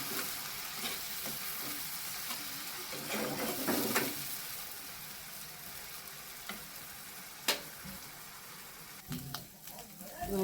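Onion frying in a pan gives a continuous soft sizzle, with occasional scraping and clinks of a spatula and a few sharper knocks against the pan; no one speaks.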